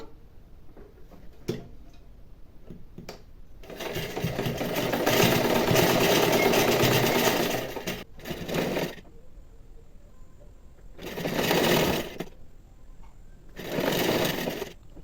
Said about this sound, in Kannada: ಮಧ್ಯಕ್ಕೆ ಫೋಲ್ಡ್ ಮಾಡಿಕೊಂಡು ಸ್ಟ್ರೇಟಾಗಿ ಒಂದು ಸ್ಟಿಚ್ ಹಾಕೋಬಿಡೋಣ